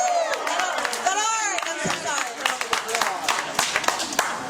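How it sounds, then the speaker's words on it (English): Audience at an Austin, Texas social media camp breaking into applause and some cheering, a loud, close clatter of clapping with a voice speaking briefly over it. "Everyone give them a round of applause."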